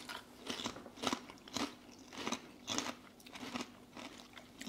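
Crunchy Doritos Chili Heat Wave crisps are bitten and chewed up close, producing about eight sharp, regularly spaced crunches with quieter chewing between them and no talking.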